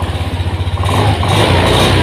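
A Honda fuel-injected motorcycle engine is started after an ECU reset, going from a pulsing, uneven idle into a louder, steady running hum; close and loud, with no talking.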